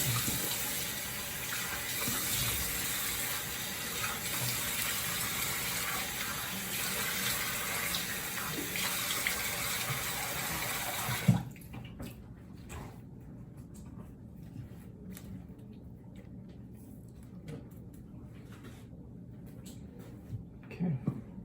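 Steady running water from a sink tap while someone rinses off after a wet shave, a continuous close hiss that stops abruptly about halfway, followed by quiet drips and small splashes.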